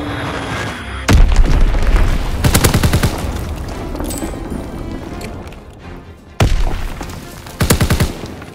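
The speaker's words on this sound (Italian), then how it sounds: "Bombardamento Fritz X in corso." Fritz X guided bombs exploding in a video game bombardment: several loud booming blasts, each trailing a rapid rattling crackle, arriving in separate bursts over a continuous rumbling background.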